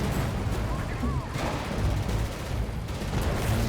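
Tanks fire in the 3D strategy video game League of War, a loud, dense run of overlapping booming shots and blasts that never lets up, with a faint voice mixed in.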